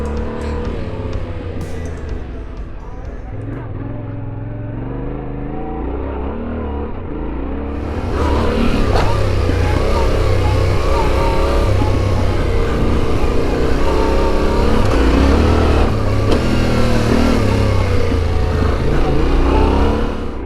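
Yamaha Ténéré 700 adventure motorcycle in stock form ridden on valley dirt trails, a steady engine drone that swells and revs, loud and continuous with no talk.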